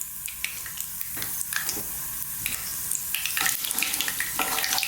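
Whole spice seeds fry in hot oil for an Indian masoor dal, giving a close, steady sizzle with scattered sharp pops and crackles throughout.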